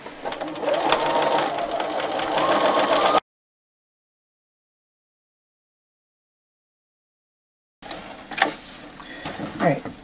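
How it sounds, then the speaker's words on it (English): A sewing machine stitches a fabric border onto the bottom of a towel with a quarter-inch seam, running steadily for about three seconds, then silence, then a short burst of stitching with light handling noise. "I'm going to use a quarter inch seam and sew this down."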